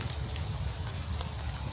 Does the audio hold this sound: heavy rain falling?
yes